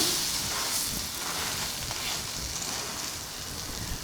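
Vegetable batter frying in a shallow layer of oil in a pan over a low flame, a steady close-up hiss and crackle running unbroken throughout with no voices.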